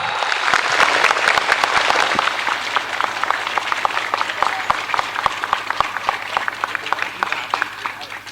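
Audience applause at a training institute event in Magelang during an official visit, a dense sustained wash of many hands clapping that grows into sharper, more distinct claps toward the end, loud and close, with some voices mixed in.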